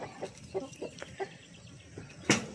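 Pet Rhode Island chickens kept at a rural hut make a few soft, scattered clucks at moderate distance, with one sharper, louder squawk near the end.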